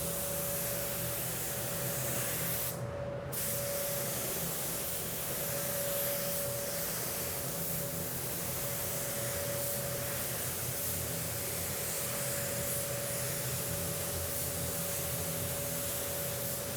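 Steady hiss of a paint spray gun laying transparent metallic paint onto a car bumper, a continuous broadband spray running unbroken for the whole stretch with a faint constant tone beneath and one brief pause.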